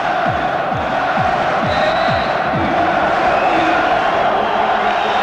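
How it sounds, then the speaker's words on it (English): A packed arena crowd before a boxing fight at a Birmingham arena, with a dense, loud, continuous roar and a rapid series of rhythmic stamping or clapping thumps early on. "just judging by the size of the crowd here, jam-packed full at the 9X Arena"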